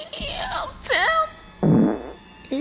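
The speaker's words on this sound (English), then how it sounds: "Was that a fart?" A short, low, flatulent blat sounds between bursts of animated speech, close and loud.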